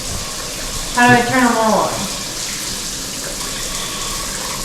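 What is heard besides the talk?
water spraying from newly installed shower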